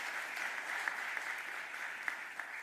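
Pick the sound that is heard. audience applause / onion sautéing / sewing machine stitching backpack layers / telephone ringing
audience applause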